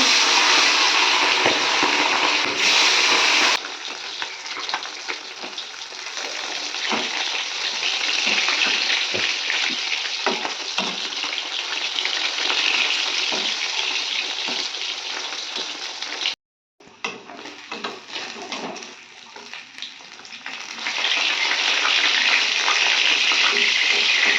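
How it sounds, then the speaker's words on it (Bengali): Small fish fry in oil in a pan, a loud, continuous hissing sizzle that dips briefly and then swells again, close and steady throughout. "তো প্রথমে আমি চারা মাছগুলো ভেজে নেব।"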